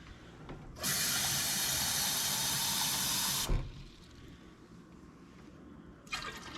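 Liquid for pickled eggs runs in a steady, loud pour into a measuring cup for about three seconds, then stops abruptly, followed by a quieter pause and a brief second splash near the end.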